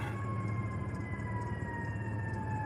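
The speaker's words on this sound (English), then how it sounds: "sirens" A steady, droning siren wail sounds at a distance under a constant low rumble of traffic or engine noise.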